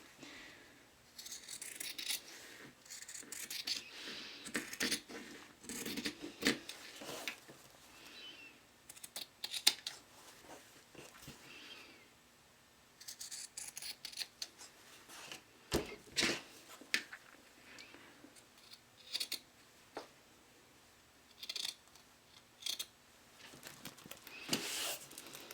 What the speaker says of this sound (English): now I'm going to go back and I'm going to trim so it matches this piece right here